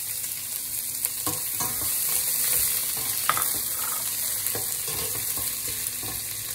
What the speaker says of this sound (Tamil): நல்லா பொன்னிறம் ஆகிற வரைக்கும் நல்லா வதக்கணும்.